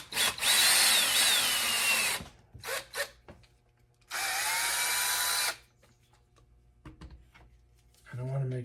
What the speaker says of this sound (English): I'm just going to drill all 4 of them now.